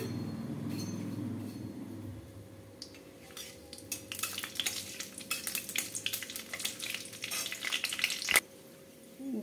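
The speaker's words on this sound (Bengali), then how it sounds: "তেল গরম হওয়ার পর গোটা গরম মশলা দিয়ে দেবো" Whole garam masala spices frying in hot oil in a wok for chicken kosha, a steady low sizzle that turns into brighter crackling and scraping of a spoon against the pan, ending with a sharp clank.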